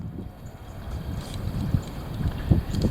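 Heavy wind buffets the microphone in a continuous low, rumbling roar, with uneven gusts swelling louder toward the end.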